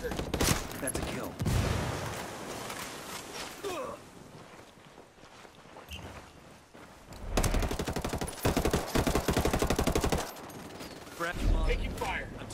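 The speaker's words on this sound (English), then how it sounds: "Taking fire. I'm taking fire." Video game gunfire in a tactical shooter match: repeated bursts of automatic fire and single shots, loud and close, in long rattling stretches with pauses and other game sounds between them.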